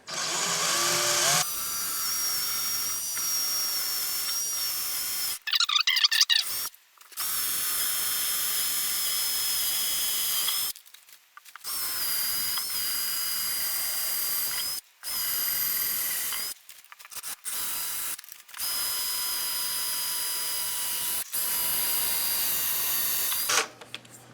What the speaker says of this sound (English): When you're drilling, hold your hand on the drill against the wall.